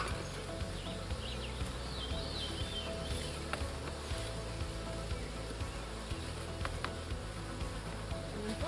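Honeybees buzz steadily and densely while a nuc colony is being installed into a hive, a close, continuous drone with individual bees zipping past.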